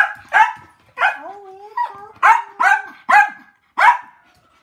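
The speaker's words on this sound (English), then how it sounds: "He don't want you barking." A small dog barks in short, sharp bursts, about six barks spaced irregularly and close by, with whimpering whines between them and a brief spoken word near the start.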